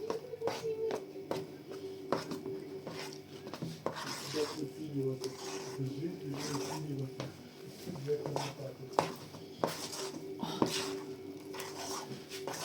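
A spoon scrapes and stirs a thick mixture containing starch in a bowl with repeated rubbing and clinking strokes, while a person talks intermittently nearby.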